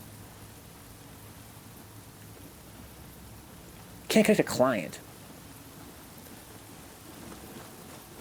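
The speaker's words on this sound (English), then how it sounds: "the rain's so nice, right? It looks nice, sounds nice" Steady rain in the video game Nioh 2 forms a faint, even hiss throughout, briefly overlaid by a short burst of speech midway.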